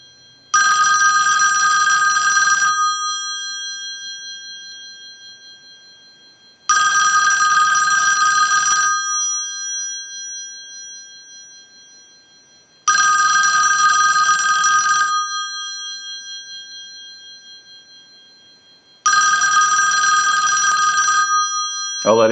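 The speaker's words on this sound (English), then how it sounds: "use the analyzer and send a ring cycle to the bell" Payphone bell box rung by a line analyzer's ring cycle: four loud, clear bell bursts of about two seconds each, separated by roughly four-second silences, with no talking.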